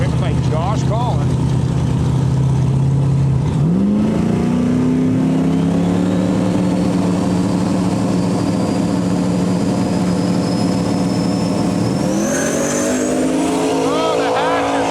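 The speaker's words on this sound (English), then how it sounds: "The Mercury Marquis wagon being driven by Josh Collins." A Mercury Marquis station wagon drag car, driven by Josh Collins, launches hard at an outlaw drag racing event in Canada, its loud engine climbing steadily in pitch, then shifting and climbing again, with constant race-track roar throughout.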